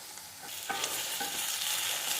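Ridge gourd and tomato fry steadily in a pan, giving a continuous bright sizzle broken by a few soft stirring scrapes, with no talking.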